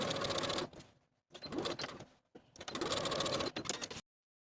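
Sewing machine edge stitching along a blouse slit in short close bursts with brief stops between runs, ending abruptly in silence.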